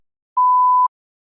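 A single steady electronic tone around half a second long sounds alone in silence, the cue signal of a TOEFL practice test.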